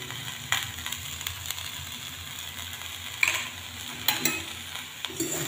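Potato and spring onion frying in a pan and being stirred after salt goes in: a steady soft sizzle with scattered scraping clicks of the spatula, moderately close and fairly quiet, with no talking.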